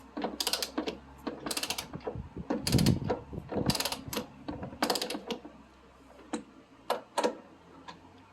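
A ratchet tightens suspension bolts on a 1991 Toyota MR2 front suspension, producing close, distinct bursts of clicking separated by short pauses, with a few single ticks toward the end.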